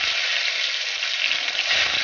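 Chopped tomato sizzles and fries in hot oil in a pan with fried egg, black cumin and mustard-poppy-chilli paste, a steady, close crackling hiss with no break.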